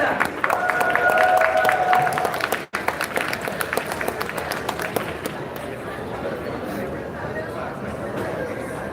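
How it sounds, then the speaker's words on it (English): An audience applauding at a live outdoor Little Saigon 50th anniversary event, with a crowd clapping steadily throughout, a brief tone ringing early, a short cut partway through, then the clapping continues at a lower, even level. "Please another round of applause."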